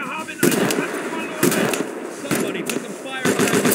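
Rapid bursts of gunfire in the video game Mud and Blood, several sharp volleys cracking out in quick succession and close by, with radio-style voices talking over the shooting.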